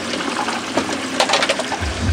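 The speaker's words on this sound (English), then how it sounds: "It is draining. Sump's starting to fill up down here." Water drains through an aquarium sump's C-siphon overflow after the pumps lose power, a close, continuous rushing trickle with gurgling bursts and a low rumble building toward the end, no voices.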